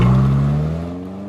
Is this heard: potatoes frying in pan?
no